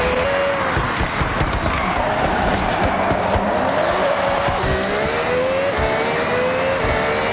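An Italian car in Forza Horizon 6 accelerating hard, its engine whining and rising through the gears with some tire noise, loud and continuous with no voices.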